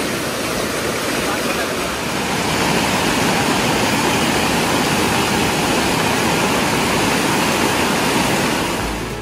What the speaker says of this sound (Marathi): व्हाळ पण तसलंच वाहता.